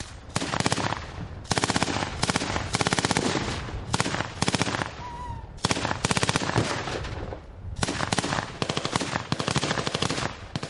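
A military field exercise in wooded mountain terrain, with small arms firing blank cartridges alongside simulation charges, produces loud, rapid bursts of automatic gunfire with short pauses between volleys, close by and continuous, with no talk.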